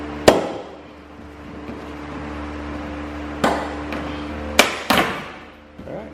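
Plastic fenders on a Jeep Gladiator JT being yanked off the truck, giving several sharp snapping pops spaced apart over a low steady background hum.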